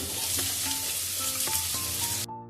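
Ginger, garlic, chilli and onion fry in hot oil with a dense, steady sizzle and light stirring over a background tune, cutting off abruptly near the end.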